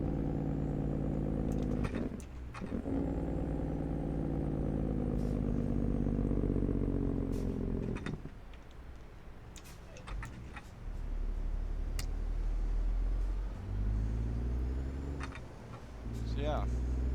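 Truck with a manual transmission rumbles steadily while rolling through town, a low engine drone that dips and swells as it drives, with ticking sounds over it.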